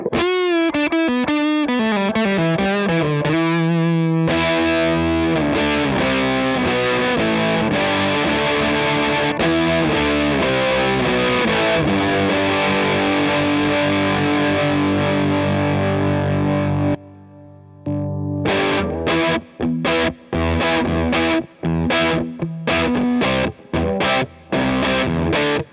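Electric guitar through a PedalPCB Raincoat DIY effects pedal on its flugelhorn setting, a loud, saturated, sustained tone playing a long continuous phrase, then a brief pause followed by a series of choppy, staccato bursts.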